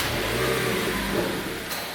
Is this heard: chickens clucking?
no